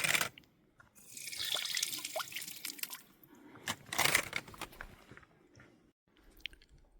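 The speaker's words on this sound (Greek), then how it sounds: "Από εδώ θα γεμίσουμε νερό για μέχρι πάνω την κορφή." Water from a mountain spring on Mount Athos trickles and splashes into a container in uneven bursts, close and fairly quiet, with wet gurgles and pauses between fills.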